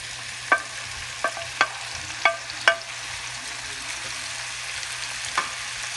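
Vegetables with broccoli stir-fry in a pan for a Thai sweet and sour dish, a steady soft sizzle broken by several sharp scrapes of a spatula against the pan.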